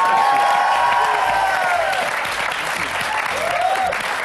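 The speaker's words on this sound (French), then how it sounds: "Applaudissements." Sustained applause from a studio audience, dense and steady clapping throughout with some crowd noise and a voice rising briefly over it.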